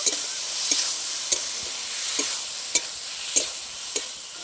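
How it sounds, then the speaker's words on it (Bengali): Poppy seed and green chilli paste being sautéed in a pan for jhinge posto, a steady close sizzle with sharp spatula scrapes and stirring knocks every half second or so, no voices. "আরও কিছুক্ষণ খুব ভালো করে কষিয়ে নেব।"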